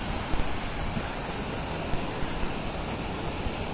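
Sea waves at a fishing spot, a steady broad wash of surf with wind noise across the microphone, continuous and fairly close, no voices.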